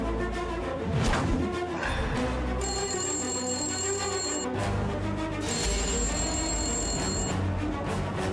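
A mobile phone rings in a domestic scene from a Telugu TV serial, sounding as two long, steady electronic ringtone bursts over a bed of continuous background music.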